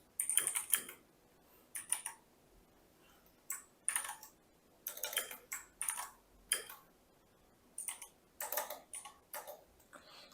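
Computer keyboard typing while jotting a note during an online poker cash game: bursts of quick, close key clicks in irregular clusters separated by short pauses, with no voices.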